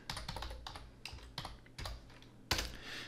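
Keys clatter on a computer keyboard in quick irregular bursts of clicks, close and quiet, ending with a sharper, louder keystroke, with no voice over it.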